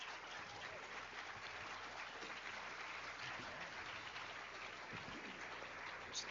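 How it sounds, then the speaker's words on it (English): Audience applause for the final panel at a community faith-based action assembly, a dense, even roar of many hands clapping in a large hall, sustained throughout with a faint low hum underneath. "Let's give our final panel a round of applause."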